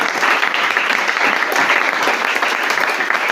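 A church congregation bursts into sustained, dense applause during a French-language Bible teaching on the local church, the clapping steady and loud throughout with no voices standing out.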